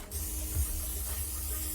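A self-rotating duct spinner inside a protective cage sprays water at high speed to clean grease from restaurant metal ductwork, producing a steady, loud broadband hiss.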